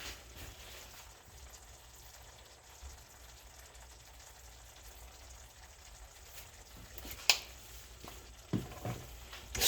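Squash sizzles quietly and steadily in a pan, with a few sharper scrapes and clatters near the end as it is stirred, and no talking.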